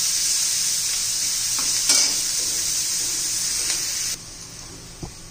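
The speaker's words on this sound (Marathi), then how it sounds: "मस्त असा कांदा मऊ पडेपर्यंत परतून घ्यायचा आपल्याला." Finely chopped onion sautéing in a pan for a capsicum vegetable dish, a steady bright sizzle with a few soft stirring clicks, the frying dropping a little quieter near the end, no talking.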